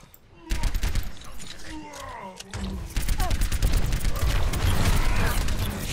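Short rapid bursts of Soldier 76's gunfire in Overwatch crackle repeatedly, with mechanical clicks and brief pauses between volleys, continuing densely toward the end.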